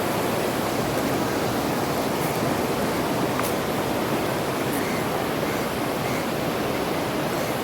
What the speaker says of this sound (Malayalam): 3 നദികളുടെ സംഗമ സ്ഥലം ത്രിവേണി സംഗമം വളരെ മനോഹരമായൊരു പ്രദേശമാണ്.